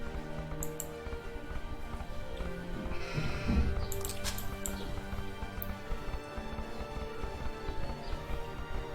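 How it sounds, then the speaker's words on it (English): Sheep bleat in a strategy video game, with several short bleats rising over a steady bed of game music and ambience, all fairly quiet. "He's going to get a couple sheep though."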